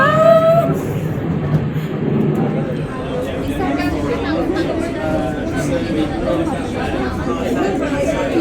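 A train rumbles into a station on Ba Na Hills in Vietnam, a steady mechanical roar under loud chattering from a crowd of people talking throughout.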